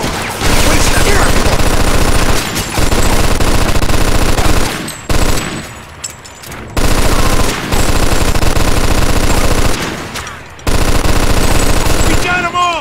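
Sustained automatic gunfire from a shootout in the video game Mafia II, loud rapid bursts with brief pauses between volleys and a short lull near the middle, with game voices shouting over the shooting.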